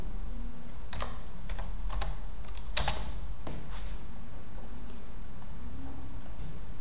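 Scattered keystrokes on a computer keyboard while text is entered into a document, a few irregular clicks with pauses between them over a steady low hum, no talking.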